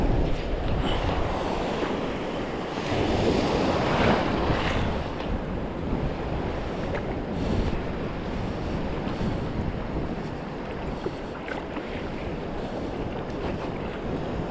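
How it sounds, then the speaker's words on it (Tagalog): Strong ocean waves roll in at a shore after a typhoon, a continuous heavy rush of surf mixed with buffeting wind on the microphone, loud and unbroken for the whole stretch. "Lalakas ng alon din mga lods."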